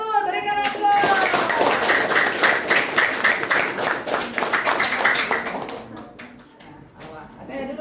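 A group of children clapping in a classroom, a dense, loud burst of applause that holds for several seconds and then thins out, with voices mixed in.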